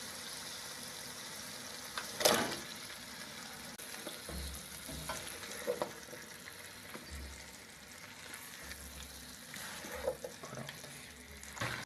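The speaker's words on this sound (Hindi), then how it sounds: "अब इसमें आलू डाल लेंगे।" Potatoes fry in an onion-tomato masala for chicken salan, giving a soft, steady sizzle with occasional stirring scrapes and clinks, quiet and close, with no talking.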